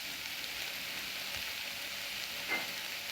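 Coconut milk is poured into a simmering Sri Lankan carrot curry, giving a steady soft sizzling, bubbling hiss with a brief stirring swish partway through. It sounds quiet and close, with no talking.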